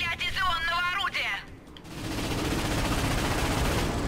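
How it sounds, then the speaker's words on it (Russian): A voice speaks, a brief pause follows, then a loud sustained burst of rapid firing from an ion cannon in the PS4 game Ratchet & Clank sweeps in and keeps going. "Придется стрелять из ионного орудия."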